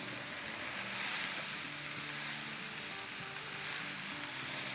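Onions fry in a pan for chicken do pyaza, cooking until soft rather than browned, giving a dense, even sizzle that holds steady throughout with no talking.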